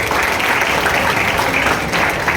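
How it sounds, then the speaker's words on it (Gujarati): Audience at an education seminar for students after standard 10 and 12 applauds, a dense, steady clapping that runs loud and continuous throughout with no speech over it. "જોરદાર તાળીઓ પાડો બેન માટે"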